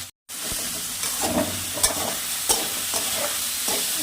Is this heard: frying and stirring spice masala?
yes